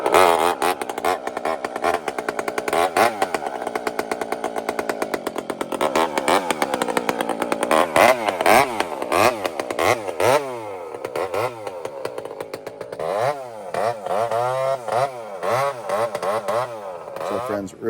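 A chainsaw fitted with a loud modified exhaust pipe runs close by, revving up and dropping back in repeated surges of raspy, buzzing two-stroke roar, with occasional voices under it.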